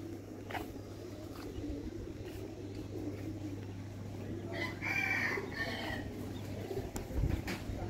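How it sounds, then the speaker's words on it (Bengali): Chickens cluck and a rooster crows on a rooftop garden planted with jujube and fruit trees, the calls fairly close over a steady low hum, with one crow standing out partway through. "এই মুরগি, গাছ নষ্ট করছিস কেন?"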